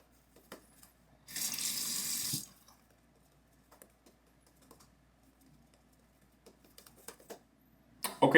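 Water from a tap runs steadily for about a second while a synthetic shaving brush is rinsed, loud and close, with quiet small clicks and handling noises before and after.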